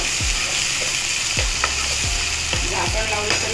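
Tomato sizzles and fries in a pan with ginger garlic paste for a black-eyed pea usal, a steady crackling hiss broken by several stirring scrapes of a spoon against the pan.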